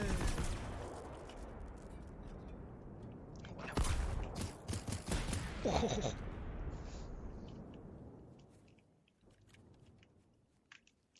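Gunfire in the video game Generation Zero, bursts of rapid shots clustered in the middle, loud and close, over a rushing ambient bed that fades away toward the end.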